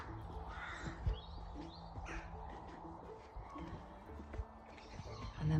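Crows cawing near a graveyard, mixed with smaller birds chirping and a pigeon cooing, a fairly distant outdoor chorus of repeated calls over low ambient rumble.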